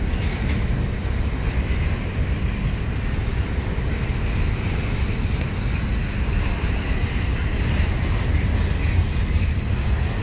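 FEC and BNSF freight trains passing in Jacksonville, a continuous loud rumble with rolling wheel clatter, steady throughout and heard from nearby.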